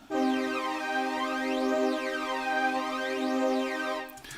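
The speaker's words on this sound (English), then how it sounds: "Makes it sound very hollow and tubey." A flanger effect applied across two audio tracks of a sustained harmonic tone gives a hollow, tubey character, with sweeping comb-filter arcs swishing slowly up and down through the sound for about four seconds, loud and alone.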